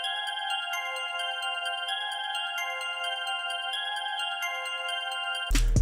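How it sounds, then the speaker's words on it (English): A bright, bell-like synth tone in a trap-style beat plays a slow minor melody with sustained ringing notes, ending in a sudden loud burst. "when you get your bell sound, you're gonna then want to lay down a minor melody"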